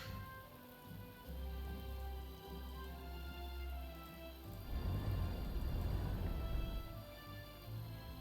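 Game rain from the strategy title Panzer Corps 2 rises to a dense, soft patter halfway through, laid under a steady tonal soundtrack at low volume.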